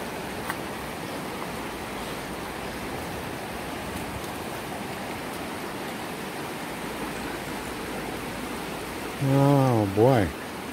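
Steady broadband rush of water flowing in a creek on the Okoy river, continuous and fairly close throughout, with someone briefly speaking near the end.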